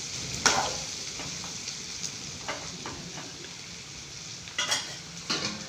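Food fries in oil in a pan at home while being stirred, giving a soft continuous sizzle broken by a few sharper scrapes and clatters of the spoon, close and alone without voices.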